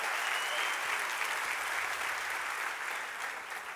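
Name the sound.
audience applause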